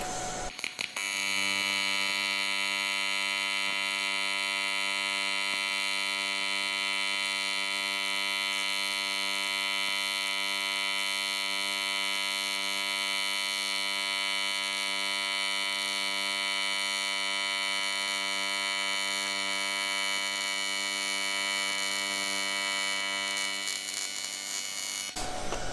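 Aluminum plate being TIG welded with 4043 filler rod gives a steady, loud electrical buzz and hum that holds without a break for about 25 seconds, with a sputter as the arc starts and ends.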